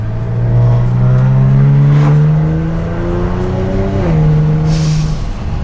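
Kia Stinger accelerating hard on a track run before being tuned, its engine note rising steadily through the rev range, dipping briefly at a gear change and then climbing again, loud and close from inside the car with no talk.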